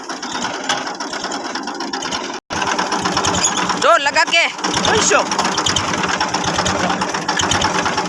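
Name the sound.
tractor engine running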